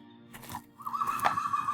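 A horse whinnies with a high, wavering call that rises and holds for about a second, clear and fairly close, with no talk over it.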